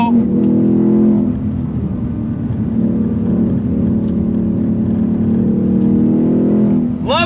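A 2024 Ford Mustang Dark Horse with a six-speed manual pulling hard on throttle, heard loud from the cabin as the V8 roar builds, settles, then swells again, with someone talking over it.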